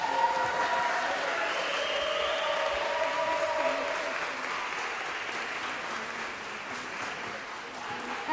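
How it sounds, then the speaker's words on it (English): An audience applauds after a children's choir Christmas concert at an elementary school, with steady, full clapping that fades slightly as it goes on. "How about another round of applause for these wonderful and amazing kids?"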